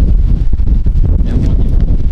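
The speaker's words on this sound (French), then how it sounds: "Il y a du vent glacial." Strong icy wind gusting outdoors on a road trip, a loud steady roar buffeting the microphone with constant low rumble and no one speaking.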